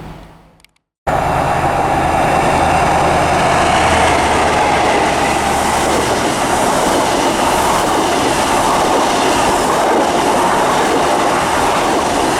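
Class 43 power car 43320 thunders through Grantham station on the East Coast Main Line, a loud, sustained roar with clattering wheels that starts abruptly after a brief quiet moment and continues steadily close by.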